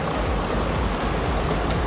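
A small waterfall on a Jura hiking trail, heard as a steady, dense rush of falling water, broadband and continuous, close by and loud with no voices over it.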